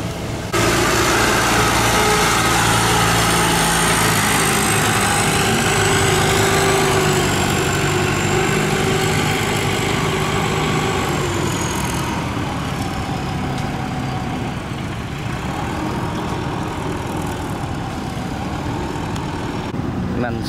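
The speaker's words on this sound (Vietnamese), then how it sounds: "mấy chiếc xà lan đang đi ngang một cái cua rất là gắt" Large river barges pass close by with a steady, loud, low engine drone and rumble throughout, rounding a sharp bend with other boats nearby, with no voice over the engines.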